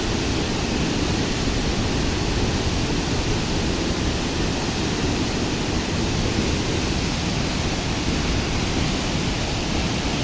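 Ranao Falls, a waterfall near Barangay Luoy, roars with a steady, dense broadband rush of falling water, loud and unbroken throughout with no voices over it.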